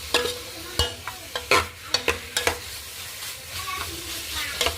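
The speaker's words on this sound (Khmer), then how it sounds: "យើងយកទៅកូរគ្រឿងវាឲ្យឈ្ងុយតាមយើងដាក់សាច់ចូល" Meat stirred into spice paste in hot oil for a Cambodian sour soup with tamarind shoots, giving a steady sizzle broken by repeated scraping and stirring clatters, close and fairly loud, with no talk.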